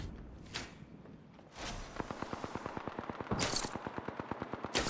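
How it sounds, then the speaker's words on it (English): Rapid automatic gunfire in the video game Apex Legends: a steady, fast train of sharp shots runs through most of the clip after a few scattered bursts at the start, loud and continuous with no talk. "I'm getting shot at"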